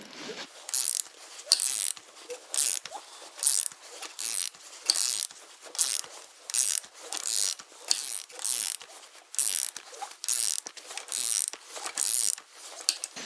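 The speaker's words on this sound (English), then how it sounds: "Now I'm just going to slowly turn my crank over 4 or 5 times here." The crankshaft of a 1980 Honda CB900C motorcycle engine is turned slowly by hand during a cam chain tensioner adjustment, giving repeated ratcheting clicks in rhythmic bursts, close and clear with no talking.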